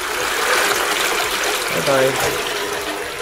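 A toilet flushes away a wet wipe used to clean a CPU, a loud broadband rush of water that churns steadily for several seconds while a voice briefly speaks over it.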